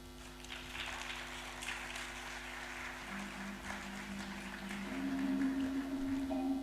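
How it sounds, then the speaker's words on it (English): Soft, distant applause from an African Union health assembly audience, a dense patter that holds steady and swells slightly near the end, with a faint tonal hum beneath. "Another round of applause, please."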